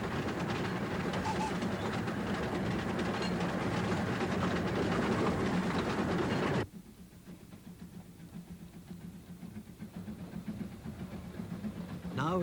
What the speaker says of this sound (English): Now, as the train puffs along